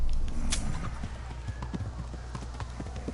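Horse hooves clip-clop at a quick steady pace close by in the video game Kingdom Come, over a rumbling background with brief voices.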